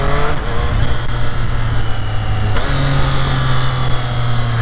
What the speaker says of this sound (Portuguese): Triumph Street Triple 765 RS.